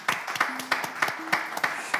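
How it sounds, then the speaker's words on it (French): Sparse applause from a small audience after a slam poetry performance, a handful of distinct claps in an uneven rhythm, close and moderately loud, with a faint tonal hum in the background. "Applaudissez, s'il vous plaît"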